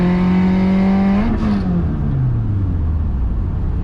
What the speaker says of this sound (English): I love to do these horsepower pulls, you know, really step on the gas